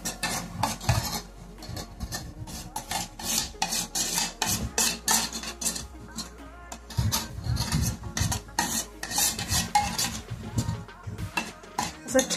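A metal spoon scrapes and taps inside a container as it spreads curd around the bottom and sides to set yogurt, steady quiet clinks and rubbing strokes without speech.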